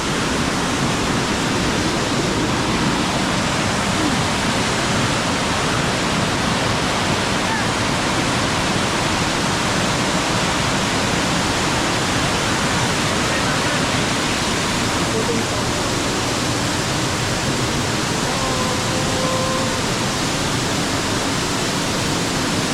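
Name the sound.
Elephant Falls waterfall in Shillong, Meghalaya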